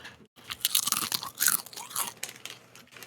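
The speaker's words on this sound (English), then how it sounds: "like that's how a chip is supposed to sound" Close, loud crunching of a potato chip being bitten and chewed, a dense run of crisp, brittle crackles over about three seconds after a brief pause, with no talking.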